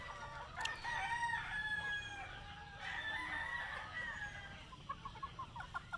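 A rooster crows loudly and close, then crows again, followed by a few short clucks from nearby chickens.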